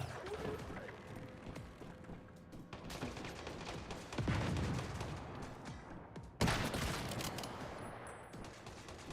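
Scattered gunfire in the survival shooter Once Human, irregular bursts and sharp shots of moderate loudness amid a busy mix of background game sounds, with a couple of stronger impacts toward the end.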